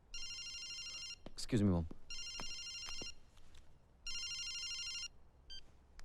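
A telephone rings indoors in repeated bursts of an electronic trilling bell, three rings with short pauses between, while a person speaks briefly over it.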